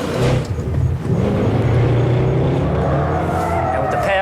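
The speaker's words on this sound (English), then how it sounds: "Now with the power of the HSV, we're able to get sideways very easy." HSV E Series 3 V8 car sliding sideways with stability control switched off, loud sustained engine roar with rising revs and tyre noise, close and continuous.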